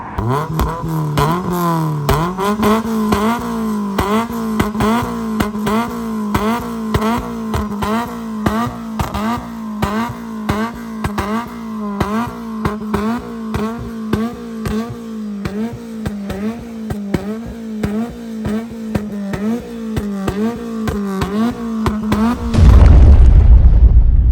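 Ford Fiesta ST150 track car revving its exhaust repeatedly in a steady rhythmic pattern of loud rises and falls, close by, with a louder burst at the end and no talk.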